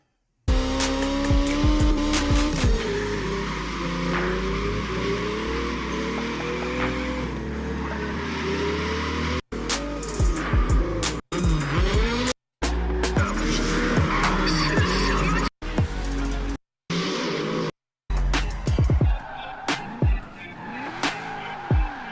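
Car engine roaring and tires squealing in the racing game Assetto Corsa, with long skids and revving engine tones, cut into several segments separated by brief silences.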